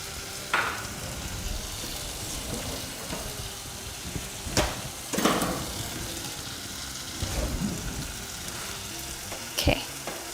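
Chapati frying on a hot pan, a soft continuous sizzle with occasional sharper crackles and clicks from handling, fairly quiet with no talk.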